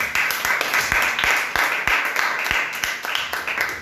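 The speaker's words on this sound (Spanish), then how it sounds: "Dale un fuerte gloria aplauso a Dios." A church congregation claps in praise during a worship service, loud and close, with strong beats landing in a steady rhythm of roughly three per second over a continuous wash of applause.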